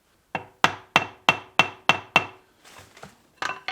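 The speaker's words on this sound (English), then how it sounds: "I might just try tapping it lightly with a hammer." A hammer lightly taps a new clutch part during a clutch install on a Case David Brown 1394 tractor. Seven close, sharp metallic knocks come at an even pace, then a brief scraping rub and two more taps.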